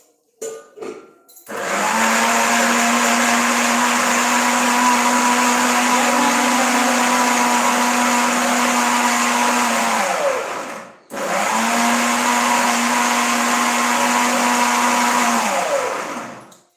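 A kitchen mixer grinder whirs loudly as it blends carrots and milk into a paste for gajar rasmalai, running steadily for about nine seconds, cutting off briefly, then spinning up again for a second long run.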